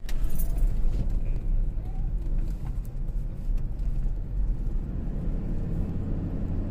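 A Ford Ranger being driven, its steady low road and engine rumble filling the cabin continuously, with faint rattles and jingling on top and a few soft voices in the background.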